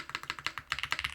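Close, crisp keystrokes on a DK1-TKL mechanical keyboard with a copper or brass bottom, about a dozen quick taps in an uneven rhythm, alone and fairly quiet.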